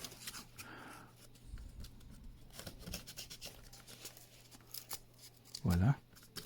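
Scissors cut away excess material from a homemade phone stand in a few short, quiet snips, with a person talking softly over them.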